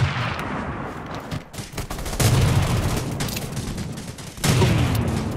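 Gunfire in Rules of Survival played on PC in first-person mode: loud, dense bursts of rapid shots with a sustained rumbling tail, swelling sharply twice and carrying on without pause.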